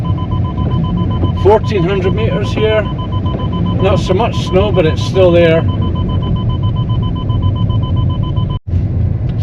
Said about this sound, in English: it was the front bleeping beep beep beep parking thingy